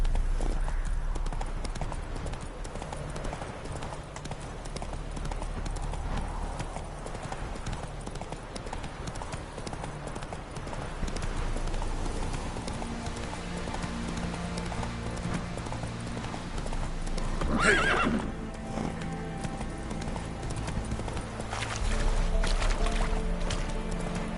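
Roach, a horse in a PlayStation 4 video game, gallops in a steady rapid clip-clop rhythm throughout, with a brief whinny partway through and faint game voices speaking in the background.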